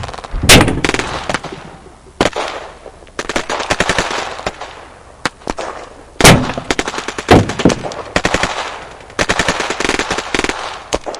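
Gunshots from an AK-47 firefight with police in Georgia, recorded on a bodycam: loud, sharp automatic bursts and single cracks ring out close by, broken by brief gaps.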